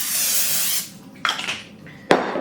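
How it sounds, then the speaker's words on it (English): A long hiss of aerosol spray, followed by a couple of shorter bursts and a sharp click or clatter. "I'm gonna give this a quick spray"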